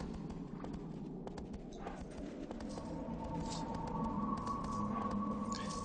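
A horse's hooves clip-clop steadily in Shadow of the Colossus, a faint rhythmic series of hoofbeats over a low rumbling ambient background.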